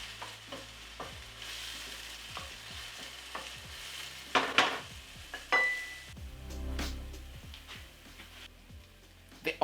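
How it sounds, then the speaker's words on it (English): Onions fry in oil in a pot with a soft, steady sizzle. A spoon stirs and clinks against the metal now and then, close by. "Add the onions. Cook until they get some color."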